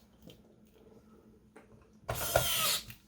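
A small electric screwdriver runs in one short burst, driving a T8 screw into a PlayStation 4 (1215A) console, after a few faint clicks and handling taps.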